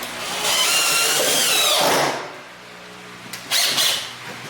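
Power screwdriver whirring as it drives a screw into drywall framing, one long loud burst followed by a shorter spin after a pause, close up with no voices.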